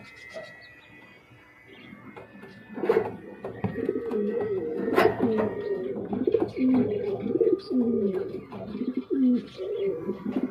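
A pair of White Beauty running pigeons coo in low, repeated throaty rolls that grow steadier through the second half, close and clear, with a few faint chirps and rustles around them.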